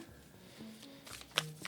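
Soft riffling and tapping of tarot cards being shuffled close by, a few quiet flicks ending in a sharper snap.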